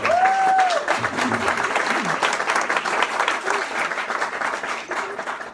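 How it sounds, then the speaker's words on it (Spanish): A church congregation applauds steadily throughout a sustained round of clapping, with a voice speaking over it and a short tonal whistle near the start. "vamos a saludar a los que nos están oyendo con un aplauso de parte del Señor"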